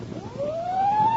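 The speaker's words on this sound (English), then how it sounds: "maybe it's the sound of sirens racing to a fire" An emergency vehicle siren wails steadily upward in pitch, sounding moderately loud and continuous over a low background hum.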